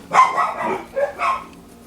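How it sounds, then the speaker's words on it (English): Several dogs, a husky among them, bark and yip in short bursts of two or three, moderately close and fairly loud, with no talking over them. "Sorry about the dogs barking in the background"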